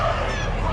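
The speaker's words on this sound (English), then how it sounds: "Domestic geese. So cool." Domestic geese at the Ohio State Fair give a brief, muffled burst of honking and fowl calls amid a busy crowd murmur, with a voice speaking nearby.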